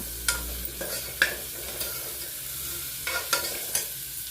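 Garlic and spices sizzle in a pan for a horse gram rice dish, a soft steady fry under repeated sharp scrapes of a spoon stirring, close and alone.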